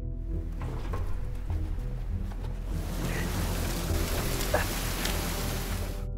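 Steady rain falls at night, a soft continuous patter that grows denser and louder partway through, with a few scattered drips over a low background rumble.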